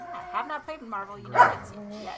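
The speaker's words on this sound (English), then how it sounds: "Sorry about the dog." A dog barks indoors in a room where people are playing a board game, a short bark heard close by among a person's ongoing speech.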